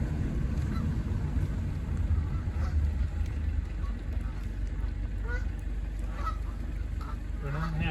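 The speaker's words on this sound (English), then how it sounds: "Now let's see if the geese cooperate and move out of my way." Geese honk repeatedly from a short distance over a steady low rumble of outdoor background noise on a university campus road, with scattered calls rising near the end.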